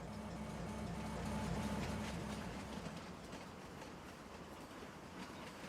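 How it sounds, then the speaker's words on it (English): A long train rolls past in Farming Simulator 25 near a tunnel, a steady rumbling rail clatter that swells and then holds at a fairly loud level throughout, with no talking. "That's a nice long train, actually. I like that train."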